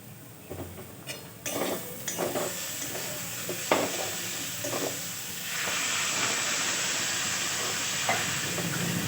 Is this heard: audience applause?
no